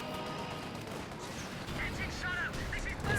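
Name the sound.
suppression gunfire in the video game Company of Heroes 2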